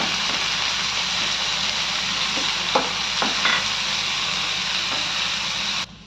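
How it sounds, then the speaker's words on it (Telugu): Finely sliced onions and soaked chana dal sizzle steadily in a pan for a ridge gourd curry, with occasional spoon scrapes as they are stirred, before the sound cuts off abruptly. "ఉల్లిపాయలు ఇలా మగ్గుతున్నప్పుడు మనం ముందుగా నానబెట్టి పెట్టుకున్న పచ్చెనపప్పు వేద్దాం ఇది ఒకసారి బాగా కలుపుదాం"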